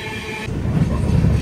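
Kondaveedu Express (17211) arriving at Narasaraopet station, a loud steady rolling rumble that swells as a high tonal sound cuts off, heard close by.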